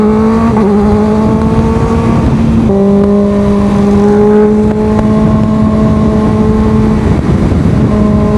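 A big-bike motorcycle engine runs at held throttle inside a tunnel, a loud continuous droning roar with slight pitch shifts and a brief dip, echoing and close throughout.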